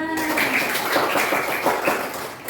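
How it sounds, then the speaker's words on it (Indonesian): A classroom of students claps for a classmate, giving a brief, fairly close burst of rapid hand claps that continues steadily for a couple of seconds. "Tepuk tangan dulu untuk Mas Bima"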